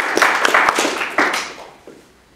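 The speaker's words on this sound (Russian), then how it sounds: "Подожди, аплодисменты." A short burst of hand clapping from a small group, close by, tapering off within a couple of seconds.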